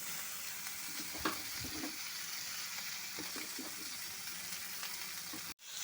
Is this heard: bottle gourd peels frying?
yes